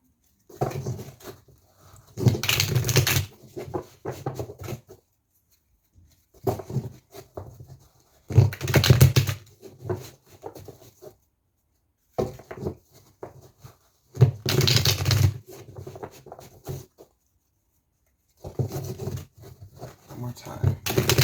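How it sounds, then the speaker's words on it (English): A deck of tarot cards is shuffled in repeated bursts of riffling and patter, each a second or two long and separated by short pauses, close and fairly loud. "Shuffle the deck."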